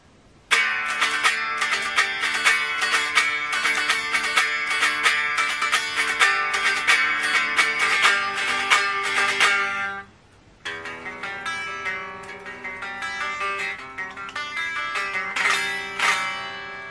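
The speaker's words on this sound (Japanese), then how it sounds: "ちなみに、エレキギターの生音はこんな感じ。" An unplugged electric guitar is strummed, thin and trebly, in quick rhythmic chords, then a short break and softer picked notes.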